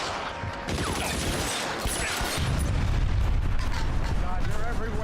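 Video game gunfire in LA Noire, rapid overlapping shots and booming blasts rolling on continuously, loud and dense, with a person talking over the action.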